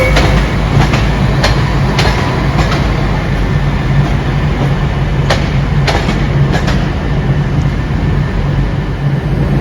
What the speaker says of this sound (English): we've got a test one of the new trains for West Midlands Railways on test